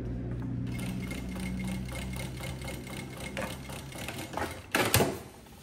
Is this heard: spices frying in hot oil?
no